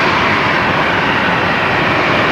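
A jet aircraft departing Brisbane Airport at sunset gives a loud, steady, broadband roar that holds evenly from start to finish with no voices.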